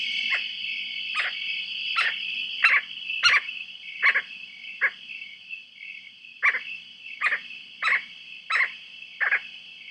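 A Western screech owl gives a series of short, sharp barks, about a dozen in uneven clusters with a pause in the middle, moderately loud against a faint steady background hum.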